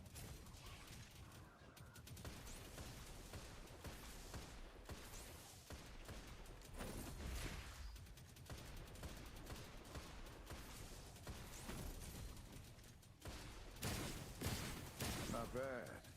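Video game gunfire rattles off in rapid, sustained volleys across a shooting-target stage, with dense bursts of shots that run almost continuously and grow louder toward the end.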